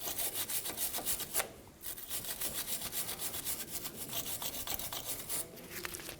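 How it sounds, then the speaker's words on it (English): Wire brush scrubbing loose rust off an ABS sensor on a Toyota Tacoma steering knuckle, rapid rasping back-and-forth strokes in a steady rhythm, close and continuous with a brief pause partway through. "I'm going to use a wire brush and just get a lot of the loose rust away from our sensor"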